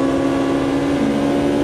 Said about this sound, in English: Spinning up the rears and bouncing off the limiter.